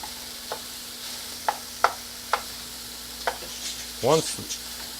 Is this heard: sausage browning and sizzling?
yes